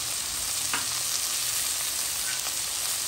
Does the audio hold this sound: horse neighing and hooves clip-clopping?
no